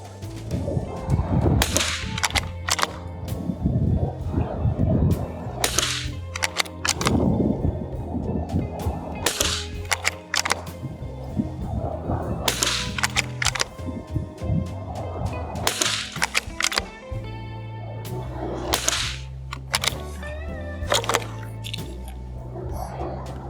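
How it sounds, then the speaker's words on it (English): An 80-year-old military surplus CZ Brno .22 rifle fires a series of sharp, cracking shots at a target, spaced irregularly with ringing decay between them, fairly close and loud. "shoot the rest of my mag just going for the center of that black dot"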